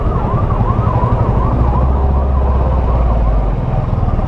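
An ambulance stuck in a Delhi traffic jam wails with a rapidly cycling siren, loud and continuous over the low rumble of idling engines and road noise.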